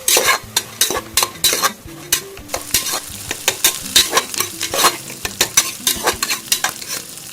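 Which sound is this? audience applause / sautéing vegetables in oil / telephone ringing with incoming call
sautéing vegetables in oil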